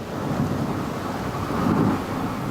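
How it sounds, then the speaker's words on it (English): Winter storm on the North Atlantic striking an ocean liner carrying around 11,000 people, a steady loud roar of wind and rain with deep thunder-like rumbling swelling toward the end. "she finds herself being hammered by a winter storm"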